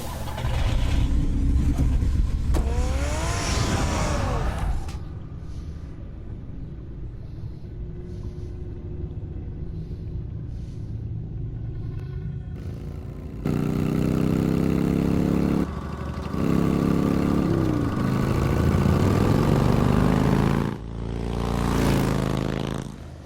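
Batmobile engine in the Batman Telltale video game, loud rumbling idle and revving surges with whooshes, mixed with game music and effects across the scene.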